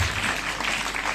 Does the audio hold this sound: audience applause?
yes